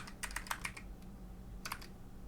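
Code being typed on a computer keyboard: two quick bursts of crisp, close key clicks separated by a brief pause, over a faint steady hum.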